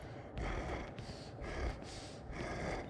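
A monster in the Spooky Cellar horror video game breathes heavily behind the player, slow rough snorting breaths repeating in a rhythm of several pulses, fairly close and alone.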